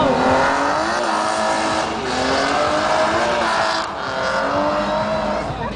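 A BMW car drifting at a drift event: a loud, sustained engine roar and tire squeal with shifting pitch, close and continuous, under a commentator's voice.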